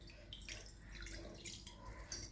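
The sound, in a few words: water poured for rava kesari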